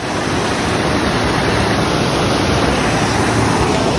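Water rushes near Geetkhola waterfall, a loud, steady, unbroken roar filling the whole stretch.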